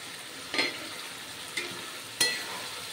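Fried potatoes tipped into hot spiced oil in a pan, giving a steady faint sizzle with three sharp clattering scrapes of stirring spaced about a second apart, no voices.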